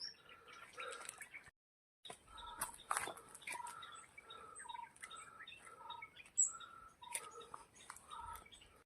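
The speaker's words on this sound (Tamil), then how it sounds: "என்ன சத்தமே பார்த்தீங்கன்னா பறவைகளோட சத்தம் தாங்க கேட்குது" Birds chirp and call in dense forest on a hill climb toward a 3000-foot summit: scattered short tweets and whistles from several birds at a distance, quiet, with a brief dropout near the start and no talking.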